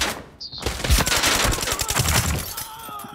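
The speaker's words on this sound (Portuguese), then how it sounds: "Esses tiros aí." Rapid bursts of automatic gunfire crackle through an Arena Breakout firefight, dense overlapping shots close and loud, easing into a quieter tail near the end.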